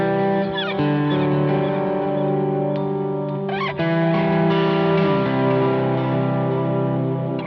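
Guitar played through a Line 6 HX Stomp with a vintage digital dotted-eighth delay at high feedback, sustained chords and single notes ringing out with repeating echoes that trail under each new strike, loud and alone.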